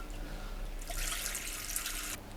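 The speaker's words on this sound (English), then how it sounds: "So I've got a rubber hose going from my tap to the drum here. And I'm going to put some water in." Tap water runs through a rubber hose into the drum of a vintage Hotpoint Empress tub washing machine, a soft hissing splash that starts partway in, holds steady, then stops abruptly.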